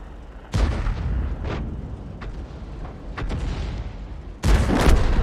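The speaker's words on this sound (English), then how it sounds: "And now the T28 prototype is shooting the Strv 103." Tank guns fire in World of Tanks as a T28 prototype shoots an Strv 103, with heavy booming shots, two loud near blasts and several lighter distant reports across a few seconds.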